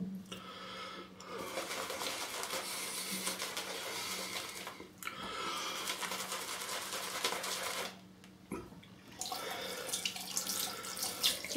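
Running tap water streams into a sink in a bathroom while a shaving brush is filled, a steady close splashing flow with two brief breaks where the stream stops and restarts.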